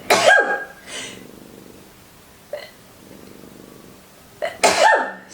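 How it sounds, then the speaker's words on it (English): Two forceful sneeze-like bursts, one at the start and one near the end, with softer breathy sounds between them. "I think I'm going to sneeze."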